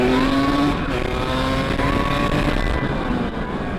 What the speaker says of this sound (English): So let's hop on the 300cc and do the 0 to 100.